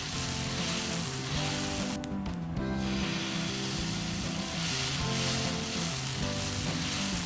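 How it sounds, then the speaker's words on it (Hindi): Black chickpea dosa batter sizzles and fries steadily on a hot griddle, a continuous loud crackling hiss throughout with music playing alongside and no talking. "और अब हीट को स्लो कर देंगे और डोसा को स्प्रेड कर देंगे।"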